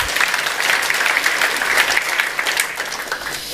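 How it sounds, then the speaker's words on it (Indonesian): Loud, sustained applause from a church congregation during a Tuesday Bible service, dense steady clapping filling the room without a break. "Kita beri tepuk tangan."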